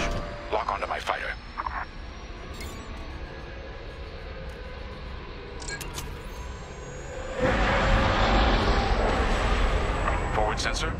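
A starfighter engine throttling up in the Star Wars Squadrons space combat game, a steady whine and roar that swells into a louder, fuller rush near the end, with brief electronic blips earlier.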